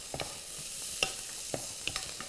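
Garlic sizzles steadily in a hot pan while masala pork chops are being cooked, with a soft crackling hiss broken by a few sharp stirring clicks. Nobody speaks.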